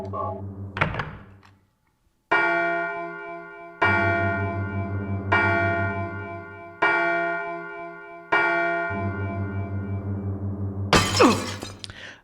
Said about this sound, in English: When the clock strikes 5, it explodes glass in your face.